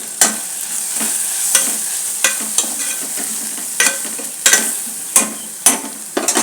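Ginger garlic paste with coriander, chili and turmeric powders frying in a little oil for a Rayalaseema-style chicken masala, a continuous sizzle broken by repeated sharp spatula scrapes and stirs against the pan, close and loud.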